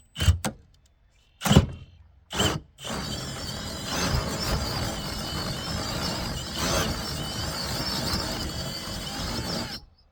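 A power drill spins a homemade crank adapter on a pop-up camper's lift mechanism, giving three short bursts before running steadily for about seven seconds, a loud, close whirring grind with mechanical rattle.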